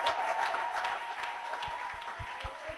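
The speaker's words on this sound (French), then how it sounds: "Acclame pour le Seigneur, bien-aimé." A church congregation at a French-language praise and worship service claps and cheers, a sustained wash of applause with a few distinct hand claps near the end.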